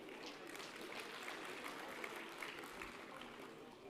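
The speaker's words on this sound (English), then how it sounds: "Please clap for them." Audience applause at a high-level financing summit roundtable in Dakar, a continuous, fairly soft spread of clapping from a seated crowd lasting the whole stretch.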